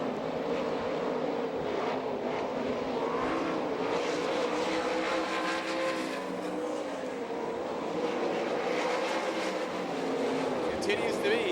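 1200lb national race cars thundering around a dirt track at Knoxville, Iowa, a steady engine roar with rising and falling passes heard from a distance, under a track announcer's commentary.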